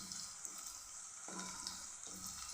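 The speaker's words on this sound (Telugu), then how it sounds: "ఉల్లిపాయలు ఇలా ఫ్రై చేసుకోవాలి" Chopped onions frying in a pan for an Indian aloo tomato curry, giving a steady soft hiss and crackle throughout with a few faint clinks of a utensil, no voices.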